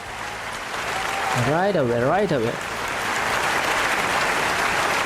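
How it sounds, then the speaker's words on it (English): Continuous clapping applause runs the whole length, steady and fairly loud, with a voice briefly speaking over it partway through. "Claps right away."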